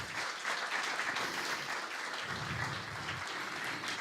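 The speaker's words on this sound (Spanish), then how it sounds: "Dele un aplauso al Señor y déselo fuerte." A church congregation applauds loudly at a Sunday worship service, steady dense clapping filling the room for the whole stretch with no break.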